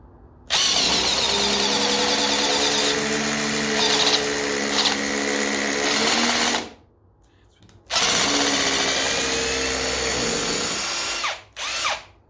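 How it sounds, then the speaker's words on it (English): Masterforce hydraulic impact driver running in two long bursts, a loud, close whine with a steady hammering texture, each burst stopping abruptly, followed by a brief third spurt. "this is one of the most underrated impact drivers in the market"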